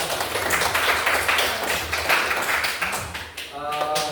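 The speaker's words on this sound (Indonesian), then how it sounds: "Jadi tepuk tangan dong untuk kalian semua ya." A classroom of students clapping together in a dense, steady patter that runs for about four seconds, with a voice briefly rising near the end.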